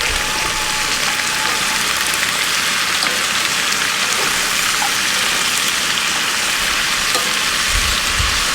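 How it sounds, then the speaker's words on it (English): Maya peppers and other hot sauce ingredients sizzle loudly in a pan on an outdoor backyard burner, a dense, continuous frying hiss with occasional soft low thumps from stirring. "you just want to keep stirring it until we get her nice and caramelized"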